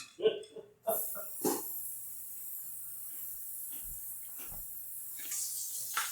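Water falling from a fountain in the game Fountains, a steady hissing splash like a running faucet that continues throughout, with a few sharp gurgling pops early and a swell near the end.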